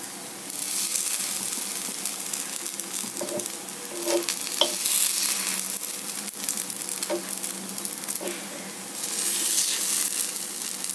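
Spicy kuzhi paniyaram fry in oil in a pan, giving a steady close sizzle and crackle with occasional light clicks and scrapes, no voices.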